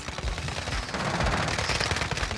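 Sustained automatic gunfire in Warzone Quads on the Caldera map, a dense, steady stream of rapid shots that fills the whole stretch at close range with no talking.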